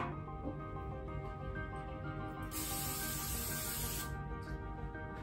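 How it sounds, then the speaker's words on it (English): A burst of non-stick cooking spray hisses steadily for about a second and a half over a low background hum, with no talking. "I'm going to spray this with a non-stick cooking spray."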